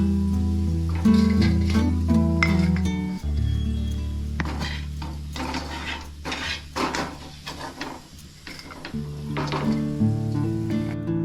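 Onions frying slowly in oil until golden brown for biryani birista, a soft continuous sizzle with clinks and scrapes of a metal spoon against the pan, a low hum beneath.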